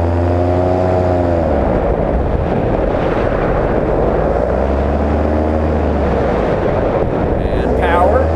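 Paramotor trike engine lifting off at less than half throttle, a steady propeller drone whose pitch sags and climbs again, loud and close throughout with wind buffeting the microphone.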